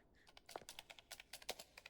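Computer keyboard typing in Danganronpa: Ultra Despair Girls, a quick uneven run of light, close, crisp key clicks heard alone at low level.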